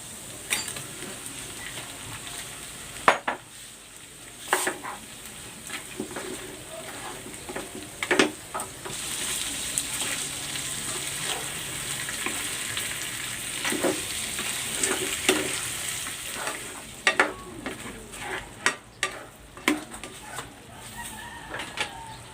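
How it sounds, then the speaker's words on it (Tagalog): Head-on peeled shrimp cook in a Cajun sauce, sizzling steadily while a utensil scrapes and stirs the pan in repeated sharp bursts, close and unvoiced. "Ilalagay ko na dito itong hipon."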